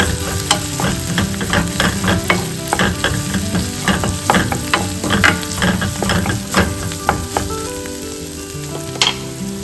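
Green chilies fry in a pan ahead of okra for vendakka pachadi; a spoon stirs and scrapes in quick, repeated strokes over a loud, constant sizzle, close up with no talking.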